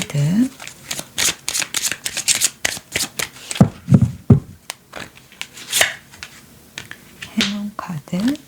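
Tarot cards shuffled for a reading, heard as rapid, close riffling and crisp card slaps in repeated bursts. Someone speaks briefly between them.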